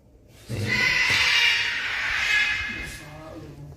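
Harsh, raspy macaw squawks with rich harmonics, a loud call lasting a few seconds over a low background murmur.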